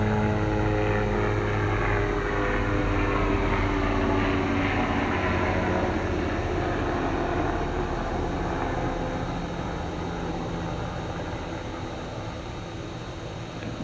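Helicopter flying overhead during an Arizona sunset, a steady loud rotor and engine drone with a pulsing beat that lasts throughout and slowly fades toward the end.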